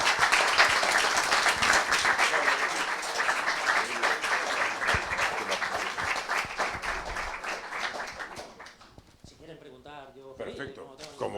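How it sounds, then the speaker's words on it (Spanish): An audience at a talk on ecosystems and entrepreneurship breaks into strong, sustained applause that gradually thins out, ending with scattered claps as a voice starts speaking. "un nuevo aplauso para Jesús."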